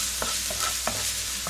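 Minced garlic frying in cooking oil in a frying pan over medium heat, a steady close hiss with a few faint taps from stirring, no voices.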